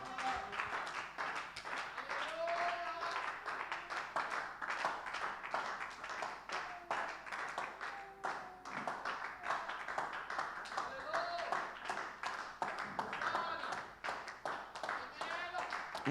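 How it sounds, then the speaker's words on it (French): Congregation in a French-language church service in Abidjan clapping hands in a steady, rhythmic stream, fairly faint and continuous, with voices speaking and singing throughout. "Une main d'acclamation au Seigneur."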